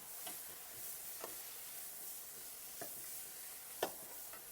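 Garlic, ginger, tomato and carrot are stirred in a frying pan over a steady low sizzle. A few scattered scrapes of the utensil against the pan punctuate the frying.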